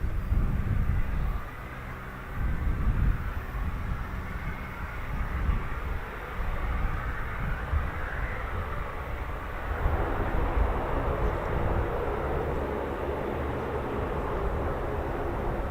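A C-130 military transport aircraft drones steadily at a distance, a broad low rumble that swells and shifts in tone as it passes, with no talk over it.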